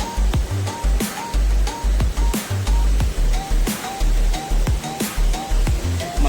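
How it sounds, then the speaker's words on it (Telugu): Fast, powerful water rushes over rocks at the Chelimichenu waterfalls near Veeranamala Tanda, Kuppam: a loud, continuous, close roar with surging splashes and repeated bursts of spray throughout. "చాలా అంటే చాలా వేగంగా వెళ్తుంది నీళ్ళైతే"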